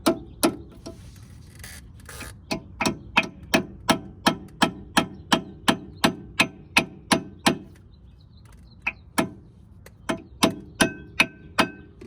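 A hammer gives a steady series of sharp metallic taps on a brake caliper pin, about two per second, with a brief pause before the tapping resumes; close and fairly loud, no talking.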